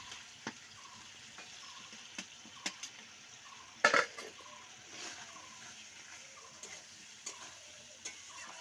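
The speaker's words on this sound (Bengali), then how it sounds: "আলু দিয়ে আরো কিছুক্ষণ কষিয়ে নেব।" Potatoes stir-fry with spice masala in a pan, a faint low sizzle broken by regular spoon scrapes and knocks against the pan, one louder clatter midway.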